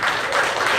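Audience applause fills a room at a business seminar, a steady wash of many hands clapping together, continuous and evenly loud throughout with no voices standing out.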